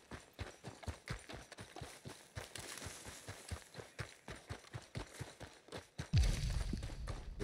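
A horse trots in Red Dead Online, its hooves clip-clopping in a fast, regular rhythm close by, followed by a louder rumbling burst near the end.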